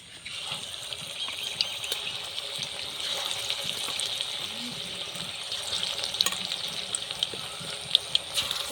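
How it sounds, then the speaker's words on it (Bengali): Pakoras fry in hot oil with a soft, steady bubbling sizzle at moderate volume, broken by small pops and faint clicks throughout. "বাকি পকোড়াগুলো আমি এভাবেই ভেজে নেব।"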